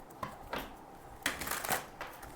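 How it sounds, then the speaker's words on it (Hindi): Tarot cards are drawn from a deck in a few quiet, brief papery slides and snaps spaced irregularly, soft and close with no talking. "चलिए let me pull out some more cards from this deck."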